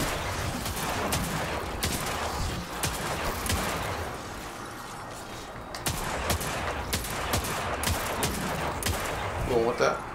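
Rapid bursts of gunfire from the video game Forsaken crackle through the whole stretch, dense and loud, with sharper volleys near the end, while a voice talks over the shooting.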